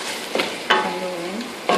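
Chicken liver stirred with ground spices in a hot pan for adobo: a low sizzle runs throughout, and a few scraping utensil strokes against the pan stand out near and distinct.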